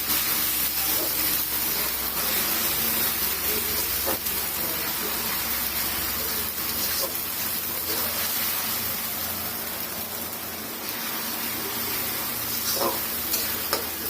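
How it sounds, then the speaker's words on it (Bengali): Ginger garlic paste frying in a pan for pulao, a loud, steady sizzle and hiss throughout, with occasional faint scrapes of stirring. "এখানে আমি উঁচা 1 চামচ আদা রসুন দিয়ে দিচ্ছি। এটাকে আমি হালকা ভেজে"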